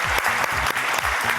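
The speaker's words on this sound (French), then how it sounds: "on l'applaudit encore une fois très fort" Studio audience at a French televised talent show applauds a contestant, a loud continuous clapping wash, with a rhythmic low musical beat pulsing underneath.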